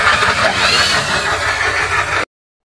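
Rough-sounding Yamaha Aerox scooter engine with an internal fault near the camshaft, running loudly and steadily close up for about two seconds before cutting off abruptly.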